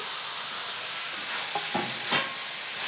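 Egg dropped into a hot pan of vegetable chowmein, a steady sizzle with a brief crackling burst and a couple of soft clinks as it goes in, fairly close and with no voices.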